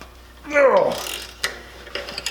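A cheater wrench ratchets on a rolled Chevrolet Silverado truck, giving a few close, sharp clicks just after a brief voiced exclamation.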